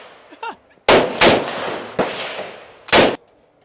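Gunfire at a shooting range: several loud, sharp reports ring out near the microphone, one pair close together and others spaced apart, each followed by a short decaying echo.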